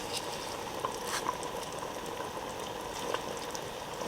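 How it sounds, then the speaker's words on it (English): Tuscan vegetable soup bubbles at a rolling boil in a pot, a dense steady patter of popping bubbles with a few louder pops, close and continuous without talk. "The soup has come to a boil."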